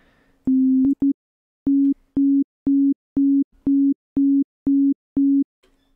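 Ten short, identical synthesized notes from a note pitched up a semitone in the FL Studio 20 piano roll, played one after another at an even pace, clean and loud with no voices.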